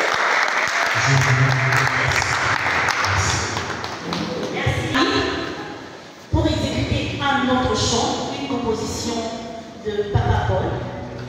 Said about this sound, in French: Je vous invite à vous lever pour l'applaudir chaleureusement